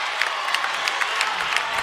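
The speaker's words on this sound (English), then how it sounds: "Crowd starting to get into it a little bit now." High school basketball crowd at Barren County versus Allen County-Scottsville roars after a foul, a dense, steady wash of cheering and scattered clapping filling the whole gym.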